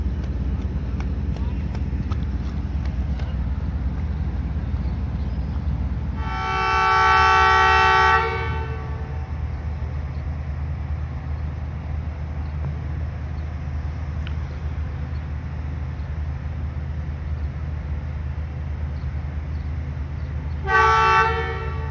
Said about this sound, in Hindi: तकरीबन 3 मिनट के करीब ट्रेन समड़याल रेलवे स्टेशन पे रुकने के बाद चल रही है अभी